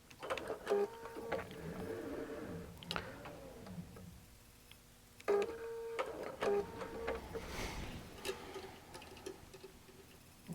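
A QBOT V3 quilting robot works on appliqué fabric, giving off irregular mechanical ticks, clicks and whirring motor movements with short pauses between bursts, fairly quiet and close.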